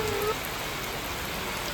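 Rain in a forest falls as a steady, even hiss of drops on leaves and ground, with no voices.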